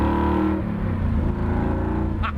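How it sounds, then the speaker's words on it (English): A 1967 Ford Mustang engine rumbles and climbs in pitch under acceleration, a loud, close, continuous roar with a brief high-pitched chirp near the end. "And I tell you, the accelerator works good."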